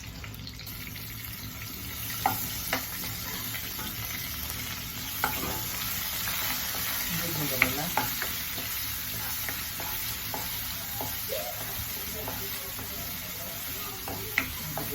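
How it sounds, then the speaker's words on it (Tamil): Ginger garlic paste sautéing in a pan for a pea kurma, with steady sizzling and repeated scraping stirs, several sharp utensil clinks, and faint running water in the background, no speech. "இந்த பேஸ்ட்லாம் வதக்கிண்டு பச்சை வாசனை போக நல்லா வதக்கிக்கணும்"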